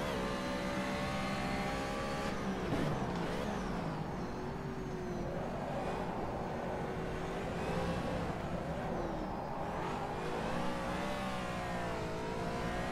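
A Nissan Hakosuka racing in rFactor 2, its engine droning steadily with rising and falling revs through gear changes, loud and continuous with no speech over it.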